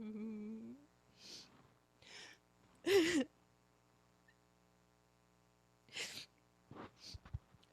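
A single sharp sneeze bursts out close by during a floor yoga session with kittens, set among faint breaths and snorts and a soft sung tone at the start.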